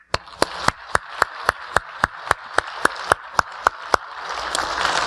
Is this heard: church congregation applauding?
yes